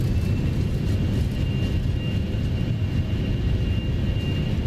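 Gulfstream 550 jet engines in reverse thrust during landing rollout in the X-Plane 12 flight simulator, a steady loud low roar and rumble holding constant throughout with no talk.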